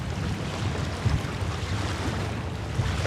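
Strong wind roars steadily over choppy waves at Bayswater Point State Park in Queens, a loud, continuous buffeting rush of gusts and surf close to the microphone with no voices.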